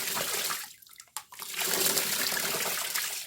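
Water rushes through a very small new float valve in a tank, a loud steady gushing that briefly drops and sputters in the middle before resuming at full flow, with no voices.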